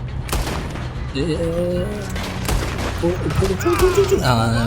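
Gunfire from the video game Red Dead Redemption, during a train robbery mission, comes as a burst of loud sharp shots over continuous game background noise.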